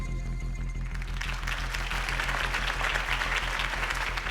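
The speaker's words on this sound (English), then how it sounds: "could have heard that applause" Crowd applause in the video game Telltale Batman, swelling in after a low hum, dense and steady clapping from many people filling the rest of the clip.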